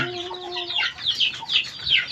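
Chickens on a farm cluck in quick, close bursts, with a few short calls overlapping in a busy, lively flock sound.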